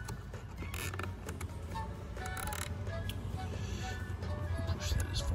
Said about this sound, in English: I'm gonna take the head of the strip tie and I'm gonna slide it as far back as I can while I'm tightening it